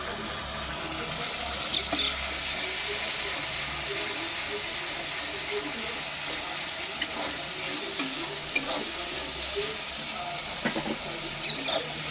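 Ginger garlic paste sizzles and fries steadily in a pan while being stirred, a continuous close crackle with faint scraping scattered throughout.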